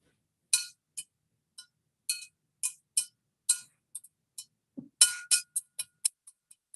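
A rubber tube frozen hard by supercold temperatures clinks like glass when struck or tapped, a faint series of sharp, brittle ticks in irregular clusters, with a brief low thump midway.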